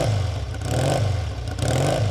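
A 1971 Triumph T100C British twin motorcycle engine revs steadily at 2,500–3,000 rpm, a loud, throbbing exhaust note that rises and dips slightly, close by with no talking.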